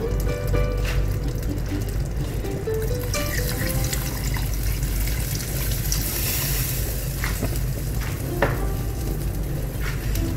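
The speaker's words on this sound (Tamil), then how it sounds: "இப்போ இன்னும் கொஞ்சம் கல்லி தண்ணி நம்ம எடுத்து வச்சுருக்கோம்னு சொன்னீங்கன்னா அந்த கல்லி தண்ணி கொஞ்சம் போடணும்" Rice-washing water pours and splashes steadily into a cooking pot of black salmon fish curry over a constant background sizzle and bubbling, with a few clinks of utensils, no one speaking.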